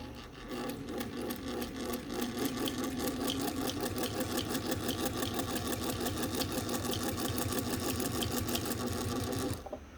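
A Singer 201 sewing machine stitches through three layers of leather with a fast, steady mechanical clatter of needle strokes, loud and close, running for about nine seconds and then stopping abruptly.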